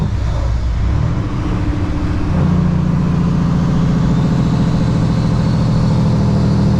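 A Kenworth W900 truck's engine drones low and steady while the driver downshifts an 18-speed Eaton Fuller transmission, the pitch dropping and settling into a heavy idle-like rumble.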